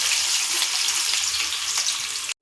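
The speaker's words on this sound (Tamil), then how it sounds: "ரெண்டு மீடியம் சைஸ் வெங்காயத்தை சேர்க்குறேன்" Two medium onions dropped into hot oil over a medium flame hiss into a loud, bright, even sizzle that runs steadily and then cuts off abruptly, with no voice present.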